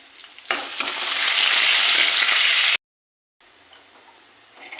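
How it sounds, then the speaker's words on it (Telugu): Tempering spices of dried red chillies, garlic, curry leaves, mustard seeds and cumin fry in hot oil, sizzling loudly and steadily for a few seconds before cutting out, then returning faintly. "తాలింపు బాగా ఎర్రగా వేగిపోయిందండి."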